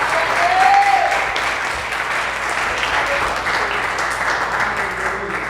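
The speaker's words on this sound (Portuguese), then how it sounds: "Você pode aplaudir o Senhor por isso?" Congregation applauding together in a church, a steady dense wash of clapping that holds for several seconds with a faint held tone early on.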